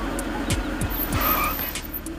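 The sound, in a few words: car braking to a stop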